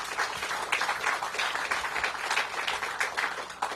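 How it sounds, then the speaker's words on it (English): Steady applause from an outdoor crowd at a groundbreaking ceremony for recreational fields on the RFK Stadium campus, a dense, even patter that holds at moderate loudness throughout with no voices over it. "Please give them a round of applause"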